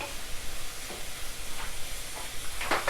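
Cabbage thoran being mixed in a pan: a close, steady sizzle and hiss of cooking vegetables with soft scraping strokes of stirring throughout.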